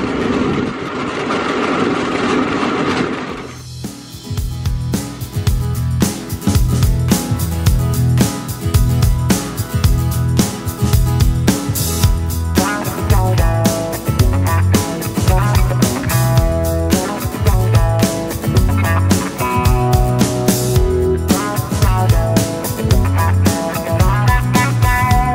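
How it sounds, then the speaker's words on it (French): A rail bike pedalled along railway tracks, a four-kilometre ride carrying several riders: after a brief opening, steady rhythmic clicking and clacking of the wheels over the rail joints runs on continuously, loud and near. "on dirait des vélos sur des rails"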